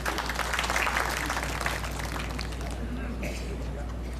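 Crowd applause at an outdoor political rally in Yigo, Guam, a steady wash of clapping that swells early and then thins out, with a low hum beneath and a voice over the PA.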